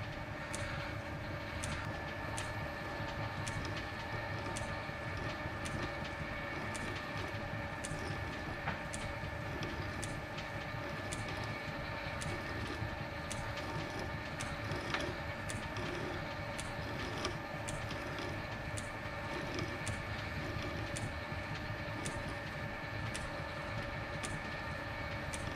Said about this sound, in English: So next job's just to cut this thread, and we'll just run him down a little bit at a time.